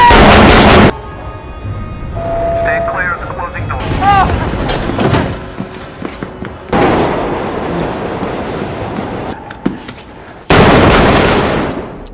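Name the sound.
gunshots in a scene from the film Joker (2019)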